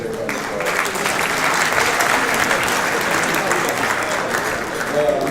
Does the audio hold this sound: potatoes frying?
no